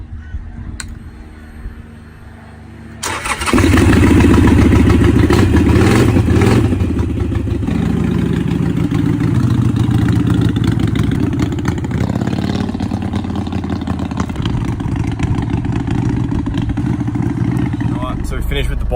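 A Harley-Davidson motorcycle engine is kicked over and fires up about three seconds in, then runs at a loud, steady idle with a rough, throbbing tone close by. It keeps running to the end.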